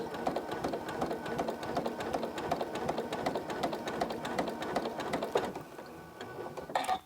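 A sewing machine stitching in the ditch along a quilt's binding with a guide foot, a fast steady mechanical clatter of needle strokes that runs continuously, then slows and stops near the end.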